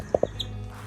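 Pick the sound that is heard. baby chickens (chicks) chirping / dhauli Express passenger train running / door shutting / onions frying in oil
baby chickens (chicks) chirping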